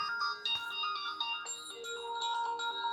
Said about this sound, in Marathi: त्याचा फोन आहे